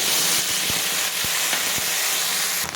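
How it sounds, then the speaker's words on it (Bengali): A paste of ground ginger, cumin and chilli sizzles steadily in hot oil while being sautéed, a loud continuous frying hiss broken by occasional soft stirring knocks. "এই বাটা মশলাটা দিয়ে দেবো দিয়ে এটাকে ভালো করে কষিয়ে নিই"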